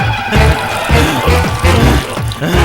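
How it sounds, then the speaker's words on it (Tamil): Milk pouring steadily in a close, loud stream, with a gurgling, pulsing rhythm as it fills a container. "உனக்கு நான் பாலே ஊத்துறேன்டா"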